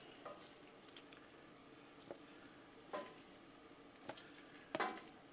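Bacon frying in a pan, a low steady sizzle broken by several sharp crackling pops, loudest near the end, with no voices.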